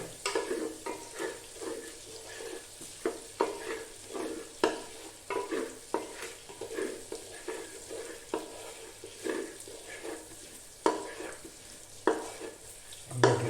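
Garlic fries in butter in a pan while it is stirred steadily, a soft continuous sizzle punctuated by regular scraping taps of the spoon against the pan, close and with no talking.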